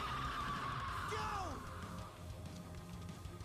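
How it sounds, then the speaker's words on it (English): An animated character in a RWBY episode lets out a sharp, sweeping scream that rises and then falls away, heard once amid battle sounds and music at moderate volume. "That's a blood-curdling scream."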